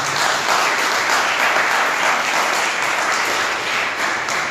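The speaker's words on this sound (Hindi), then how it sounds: "ताली बजा के परमेश्वर," A church congregation at a Sunday service clapping together, a steady full-room applause sustained evenly from start to finish with no talk over it.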